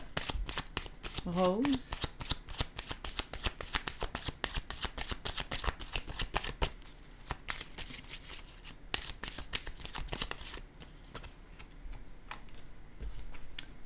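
Cards are handled, shuffled and laid down in a dense, continuous crisp riffling and flicking, close and fairly loud, while a voice speaks briefly.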